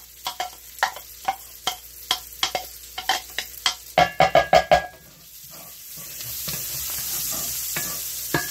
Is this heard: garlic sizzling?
yes